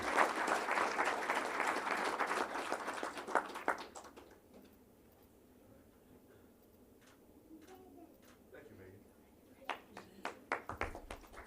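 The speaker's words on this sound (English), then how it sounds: "So a big round of applause." Applause for a January Student of the Month at a school board meeting, strong at first then thinning into scattered claps and quiet room noise, with a few louder claps returning near the end.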